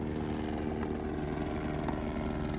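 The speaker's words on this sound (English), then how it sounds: "Whoa, helicopter! They're coming for support." Helicopter flying overhead near a fire, a steady droning rotor and engine rumble with rhythmic blade chop, moderately loud and continuous with no talk.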